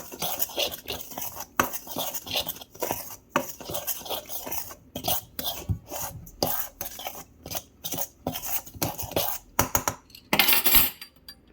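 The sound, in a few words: mixing sugar in a bowl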